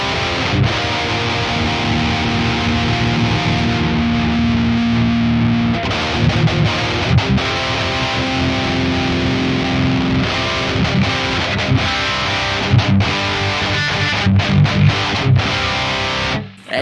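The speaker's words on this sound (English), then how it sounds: "I put the drive up on the actual pedal because I'm trying to get a little bit more distortion from the pedal itself" A heavily distorted electric guitar through an Axe-Fx III Engl Powerball amp model with a drive pedal, thick, fizzy high-gain tone playing chords and riffs, loud and continuous, with no talking.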